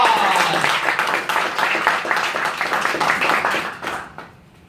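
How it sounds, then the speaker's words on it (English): An audience gives a big round of applause before a student speech on abolishing the death penalty, dense clapping that holds steady for about four seconds and then fades out. "Big round of applause."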